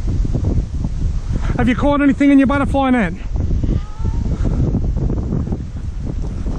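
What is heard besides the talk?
wind blowing outdoors at a lake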